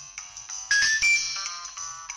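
A jazzy piano phone ringtone plays a short bright melody with a few ringing notes, clear and fairly close, with no talk over it.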